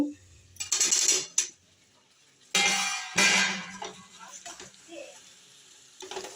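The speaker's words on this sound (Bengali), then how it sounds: "আলুটা দিয়ে এইভাবে একটু নেড়ে নেব।" A metal spoon stirs fried potatoes into a bhetki fish-bone curry in a pan, with scraping clinks and bursts of stirring between quiet gaps, close and moderately loud.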